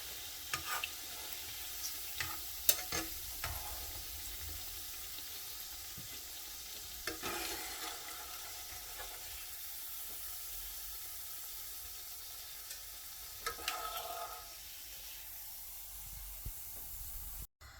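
Shami kebabs fry in a pan with a steady, soft sizzle and hiss, broken by occasional clinks and scrapes of a utensil against the pan, with no talking.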